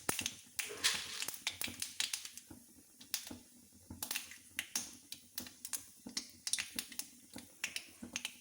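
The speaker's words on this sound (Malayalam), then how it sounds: "കുറച്ച് നല്ലെണ്ണ ഒഴിച്ചു. അതിലേക്ക് കടുകിടാം." Mustard seeds pop and crackle in hot sesame oil during tempering for a Kerala tomato-ginger chutney: dense, irregular sharp snaps, fairly close, coming in bursts throughout with no talking.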